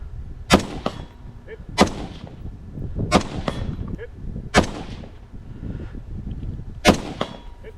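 Five loud, sharp rifle shots fired at targets during a competitive shooting stage, spaced about a second or more apart with metallic ringing and echo between them, no voices.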